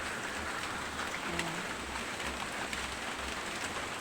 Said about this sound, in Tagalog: tumikil-tigil ang ulan, pabugso-bugso